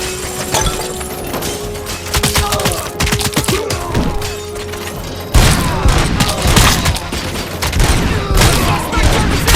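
Dense volleys of gunfire crack and thump in the shooter game RoboCop: Rogue City, rapid overlapping shots with shattering impacts that grow heavier and louder partway through.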